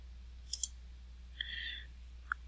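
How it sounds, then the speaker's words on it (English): A computer mouse button clicked on a spreadsheet, a quick double click followed later by a single soft click in a quiet room. "clicking the Form button"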